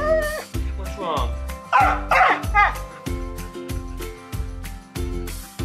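A husky throws a tantrum up close, letting out loud repeated whines, yips and drawn-out howling vocalizations in uneven bursts.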